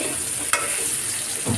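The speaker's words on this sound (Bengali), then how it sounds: "তো দেখো মিষ্টি কুমড়াগুলো বেশি হয়ে গেছিলো, ওই জন্য আগে তুলে রেখেছি, কম করে করে ভাজছি" Pumpkin pieces frying in a pan, heard as a brief, close, continuous sizzle with one quick utensil tap, no speech.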